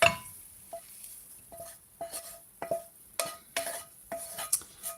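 Utensils clink and scrape against a bowl in a quiet kitchen, a series of short sharp taps at an irregular pace.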